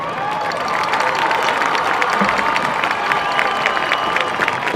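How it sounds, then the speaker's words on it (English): A large crowd at a Canyon High School homecoming football game against Lehman applauds and cheers for the 2021 homecoming court, a dense, continuous roar of clapping and shouting filling the stadium without pause. "please give a round of applause for the 2021 Canyon High School Homecoming High Court"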